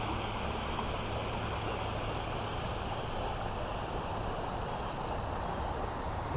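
French Broad River floodwater pouring across Glen Bridge Road Southeast in Arden, a steady, loud, broadband rushing roar that stays constant throughout with no talk.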